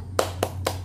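Three crisp hand claps in an even rhythm, close by, over a faint low hum.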